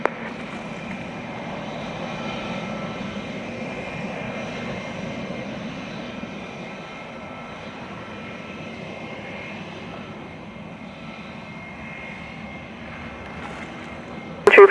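Airliner engines rumble steadily at a Jamaican airport as the plane sits on the runway before departure, a broad, moderately distant drone that holds level throughout.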